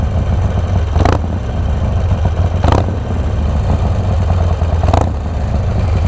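A warm motorcycle engine idles with a steady low thrum, with sharp clattering blips about every two seconds, loud and close, no talk.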